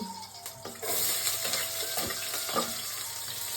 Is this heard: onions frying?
yes